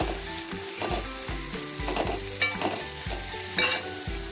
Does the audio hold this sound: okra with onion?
yes